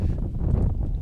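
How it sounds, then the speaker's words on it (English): Strong wind buffets the microphone at an outdoor Australian rules football match in the Boston area, a loud, low, rumbling roar that gusts unevenly. "it's wicked windy here."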